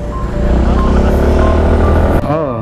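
A motorcycle engine runs loud and close during a road trip in Ilocos Norte, a steady drone that dips briefly near the end as the engine stalls, then picks up again as it restarts.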